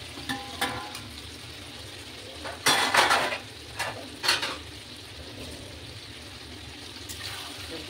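Potatoes stirred into softened ridge gourd in a cooking pan, giving a few brief scraping and clinking bursts of a spoon against the pan over a quiet low kitchen hum, with no talk.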